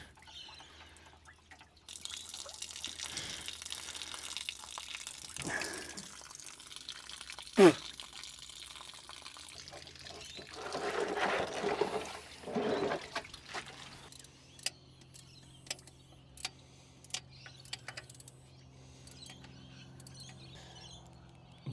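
Coolant draining from an excavator radiator after some 8,000 hours of running, with splashing and trickling liquid, a metallic clank, then a series of separate drips landing in a container, close but fairly quiet.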